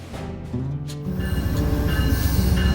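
The southbound City of New Orleans passenger train rolls past close by in a steady, loud rumble. High squealing tones from its wheels ride over the clatter throughout.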